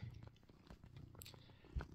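A cat purrs very quietly with a soft, steady low rumble, close to the listener, with a faint voice nearby.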